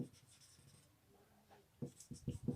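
Chalk or marker scratches and taps in short strokes while writing on a board during a maths lesson, quiet and close, with a soft voice in places.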